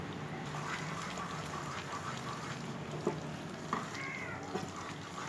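Milk Mysore pak mixture is stirred in a pan while ghee is poured in, producing a low bubbling hiss with a few brief scrapes and clinks near the end, fairly quiet and close.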